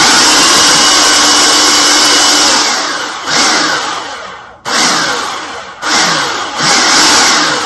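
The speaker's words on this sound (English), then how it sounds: "I'm just using the pulse mode. I still see some onion chunks in there, so I'm going to give it a few spins." A food processor pulses onions for bourbon bacon jam with a loud, close motor whir that cuts out and restarts several times, each burst winding down briefly before the next spin.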